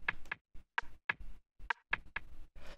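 Subdued percussion in a minimal house track, a rimshot run through a bandpass filter, clicking in short, sharp, irregular hits, quiet and thin, about eight taps alone over a couple of seconds.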